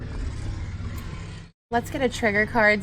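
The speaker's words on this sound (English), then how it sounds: "Loud truck going down the street." A loud truck passes along the street, a broad low rumble filling the first second and a half before cutting out, after which a person starts talking.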